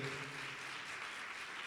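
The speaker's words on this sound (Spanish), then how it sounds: "Los aplausos bien fuertes" Audience applause at a national seminar on public budgeting, a fairly quiet but steady patter of many hands clapping, with a brief trace of a voice at the very start.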